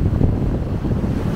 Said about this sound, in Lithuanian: Nu, stiprus vėjas. 22 mazgai dabar.